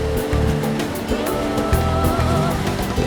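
Seawater surging through holes in coastal rock at Rainbow's End, Palau, spouting like blowholes; a steady loud rush of surf and spray with repeated bursts, close by and with no voices.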